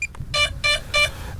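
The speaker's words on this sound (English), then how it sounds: "it beeps like hell" A DJI Avata 2 transmitter beeps to locate a lost drone: three loud, bright electronic beeps in an even rhythm, each about a quarter second, after a brief short chirp.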